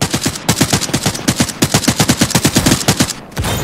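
Machine gun fire in the shooter game Arena Breakout: Infinite rips out as a rapid, even string of loud, close shots with two brief gaps, ending in a noisier tail.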